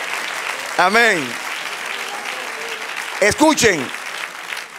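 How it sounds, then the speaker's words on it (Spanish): A church congregation claps during a Spanish-language sermon, a moderate, sustained applause running beneath a preacher who speaks at the start and again near the end. "Denle un aplauso al Señor."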